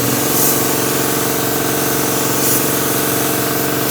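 A paint spray gun hisses steadily and loudly while coating a wrecked Square Body Suburban. The hiss runs on without a break, and a low compressor or engine hum sits beneath it.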